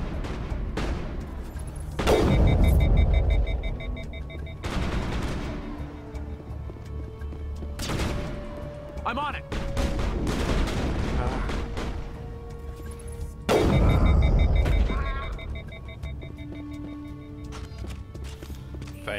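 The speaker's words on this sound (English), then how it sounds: "stop shooting me in the back" Gunfire in a Mass Effect battle: heavy booming shots and blasts recur every few seconds, mixed with other game effects and some talking.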